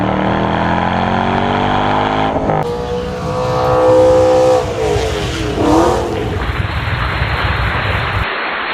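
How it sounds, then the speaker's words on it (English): A car's engine runs and revs with shifting tones as it is driven into a garage, loud and close, ending in a steady broad rumble. "We're bringing the car into the garage today"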